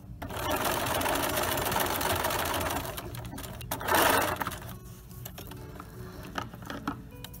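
A sewing machine runs steadily, stitching the final seam of a pillow with a dense, fast mechanical patter, loud and close, then slows to lighter intermittent whirring and clicks as the seam nears its end.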